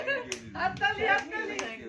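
Hands clap about four times in a loose rhythm at a family birthday celebration at home, close by, while voices talk and sing over the claps.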